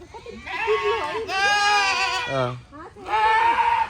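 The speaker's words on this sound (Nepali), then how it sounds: "चाहिँ के हो बोका हो क्या यिनीहरू" Goats at a safari park bleat loudly and close by, with several drawn-out, wavering cries following one another in quick succession.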